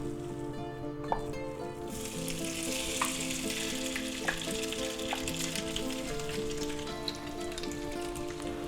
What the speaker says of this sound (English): Alright, let's stir fry that around.